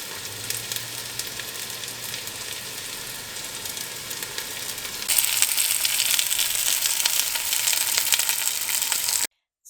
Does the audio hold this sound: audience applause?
no